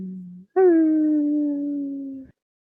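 A dog gives one short low tone and then a single long, loud, steady howl that slowly falls in pitch before stopping abruptly, heard close and alone.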